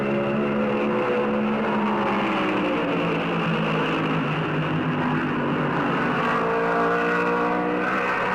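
Stock cars race at Darlington in the 1971 Southern 500, a steady whining engine drone with layered pitches shifting as the field circulates, recorded thin and somewhat distant.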